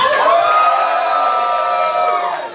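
A crowd at an improv comedy tournament erupts in wild cheering, with shouts and high whoops swelling together loudly and then fading off at the end.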